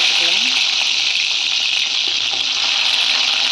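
Small shallots go into hot oil with popped mustard seeds, setting off a loud, rushing sizzle that holds steady near the mic.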